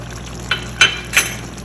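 Spices frying in a pan for Lahori murgh cholay, a steady low sizzle broken by three short stirring scrapes and crackles close by, with no talk.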